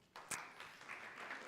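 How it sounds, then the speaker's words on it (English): A church congregation applauds, giving a brief, faint patter of clapping from many hands that rises slightly and continues at a low level. "did you hear that clapping? Did you hear that applause, Susan?"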